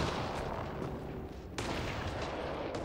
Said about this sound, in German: Ich höre auf jeden Fall irgendwo Schüsse.